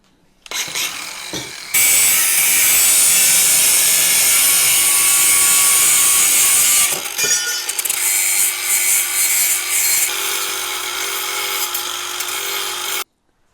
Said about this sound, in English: now we're going to cut the pipe just in front of this mounting nut